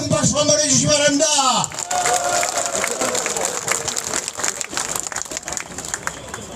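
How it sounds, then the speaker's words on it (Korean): An audience at a rally of reserve Marine Corps veterans' groups breaks into sustained applause and crowd noise that swells after a voice speaking loudly at the start, then stays dense and steady. "그분들에게 큰 박수 한번 해주시기 바랍니다"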